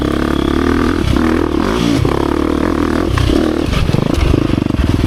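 A 2023 KTM 350 XC-F Factory Edition dirt bike engine pulls hard in gear, loud and close, with a continuous raspy drone that rises and falls through several throttle surges. Clattering and scraping noises run beneath it.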